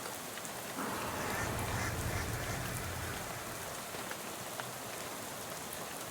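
A steady wash of noise runs throughout, with a brief raised, nasal honking burst early on in the video game Shadows over Loathing that resembles a cartoonish goose or duck call.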